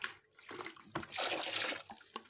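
Water splashing and sloshing as a bucket used for mixing soda ash is rinsed, a close, continuous wash of running and swirling water that swells in the middle and tapers off.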